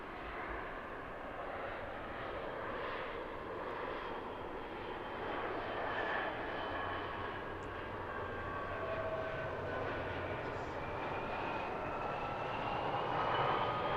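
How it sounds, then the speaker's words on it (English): An Embraer E175 airliner comes in to land, its engines a steady broad roar that swells slightly near the end, with a rising whine threaded through it, heard from outside at moderate distance. "After we watch the E175 land."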